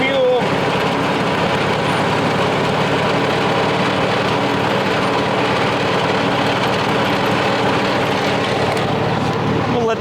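A farm tractor engine idles steadily and loudly for the whole stretch, a dense continuous rumble with no pauses and no voices over it.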